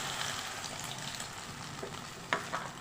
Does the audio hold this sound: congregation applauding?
no